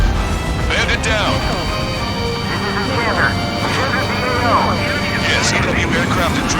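EW aircraft jets arrive in Ace Combat 7 with a constant loud engine roar that fills the scene, while radio voices chatter over the top throughout.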